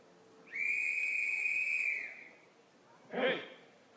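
Referee's whistle at a STIHL Timbersports competition, one long bright blast lasting over a second, followed by a short shouted voice.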